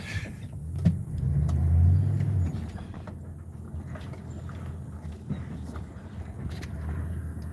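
A pickup truck with a partly filled water tank in the back shifts into reverse and moves off. A low engine rumble swells near the start, then settles into a quieter idle with a few clunks.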